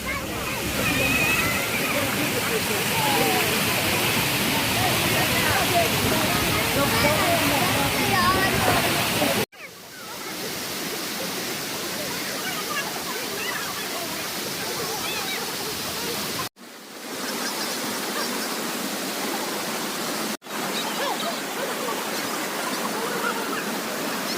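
Water flowing over stones at the source of the Cooum river near Parandur lake: a loud, close, continuous rushing and splashing that fills the whole clip, broken by a few abrupt cuts between takes.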